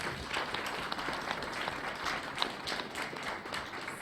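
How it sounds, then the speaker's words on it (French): An assembled audience applauds president Moussa Samba with a sustained, dense patter of clapping, moderately loud and continuous throughout, with no speech on top. "Je voudrais vraiment qu'on l'applaudisse très très fort."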